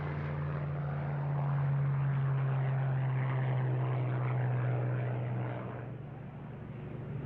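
A Lockheed P-38 twin-engine, single-seat fighter flies with a steady droning propeller roar and a low humming engine tone, swelling slightly and then easing off toward the end.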